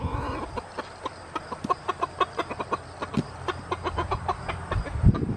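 Several chickens cluck in quick, uneven bursts over shared corn cobs, close by, with soft pecking and shuffling noises in between.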